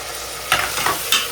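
Food being stirred and sautéed in a pan while cooking mutton curry with onion, tomato, ginger and garlic paste: a steady close sizzle with a few soft scraping strokes of the spoon.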